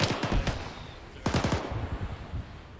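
Gunfire during platoon infantry training, two close bursts of rapid automatic shots separated by a brief pause, sharp and loud against a noisy background.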